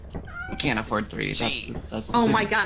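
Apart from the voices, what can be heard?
cat meowing in a video game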